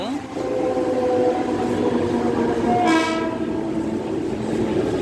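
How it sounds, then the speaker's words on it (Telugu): Mumbai Harbour Line local train on the CSMT to Bandra route pulling out of a station, loud continuous rumble of the carriages with a horn blast partway through, while a person talks over it. "ఆ ట్రైన్ బయలుదేరిపోద్ది ఇప్పుడు ఇక్కడ నుంచి."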